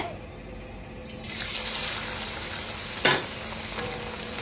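Loud, steady sizzling of chicken frying in hot oil, starting abruptly after a quiet moment, with a brief clatter partway through.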